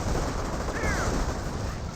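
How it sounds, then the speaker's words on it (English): Rangers fire their guns in Company of Heroes, a steady dense crackle of small-arms fire within a constant busy battle din, with no single shot standing apart. "Rangers firing away."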